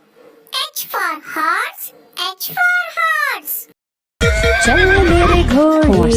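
A horse whinny sound effect rings out in a children's alphabet song, heard after a child sings a couple of phrases, then a loud whinnying neigh fills the rest with music behind it.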